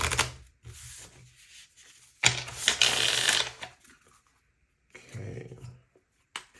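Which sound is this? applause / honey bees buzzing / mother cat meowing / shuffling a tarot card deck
shuffling a tarot card deck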